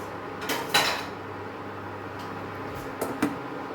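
A lid is set onto a cooking pot of Goan coconut fish curry, giving a couple of soft metallic clinks and knocks over quiet kitchen hum, close and faint, no talk.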